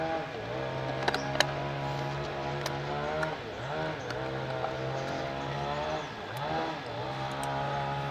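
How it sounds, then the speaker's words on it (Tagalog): A chainsaw cutting away obstructions for road construction off to one side, its engine droning steadily with a few pitch dips and rises as it bites, continuous and moderately loud at some distance. "may nagchichinso po doon sa kabila. Pinuputol nila yung mga nakaharang sa ginagawang kalsada."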